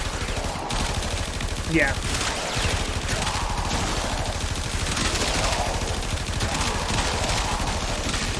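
Rapid automatic gunfire from an early-game weapon in a video game, a dense continuous burst of shots running under a brief spoken word.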